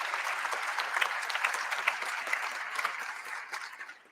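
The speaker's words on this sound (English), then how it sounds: "Let's give them a round of applause in their memory." An audience at a Charter Day convocation applauds in memory of late leaders, steady dense clapping from a large crowd that holds for a few seconds and then begins to thin out.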